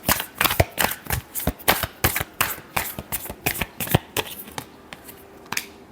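A deck of tarot cards is shuffled by hand up close, a rapid run of crisp riffling flutters and taps that thins out toward the end, with no talk.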